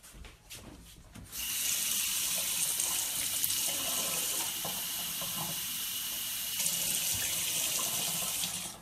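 Water gushes steadily from a tap after a brief quieter start, a loud continuous rushing stream close by.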